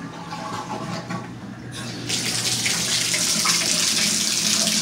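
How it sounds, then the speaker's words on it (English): Water from a bathtub faucet runs steadily and close, a broad hiss that swells louder partway through as the flow increases. "Tub works."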